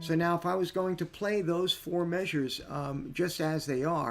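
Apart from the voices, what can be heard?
None of the usual background noises is heard.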